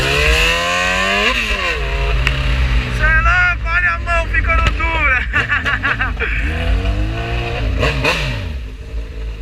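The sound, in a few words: Kawasaki Z1000 motorcycle engine revving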